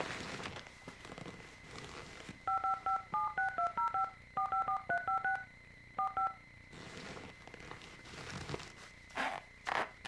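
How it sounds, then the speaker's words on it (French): A telephone number is dialed, about two dozen short touch-tone beeps in quick irregular bursts, clear and close, framed by soft rustling and handling noise before and after. "Je lui téléphone immédiatement."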